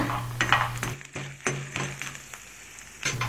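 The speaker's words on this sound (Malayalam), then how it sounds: "ഇനി നമുക്കതിലേക്ക് കുറച്ച് കറിവേപ്പിലയും കൂടെ ചേർത്തിട്ട് നന്നായിട്ട് മിക്സ് ചെയ്ത് കൊടുക്കാം" Green peas and curry leaves being stirred in a hot frying pan, with a steady sizzle of frying broken by several scraping, clinking strokes of a spoon against the pan.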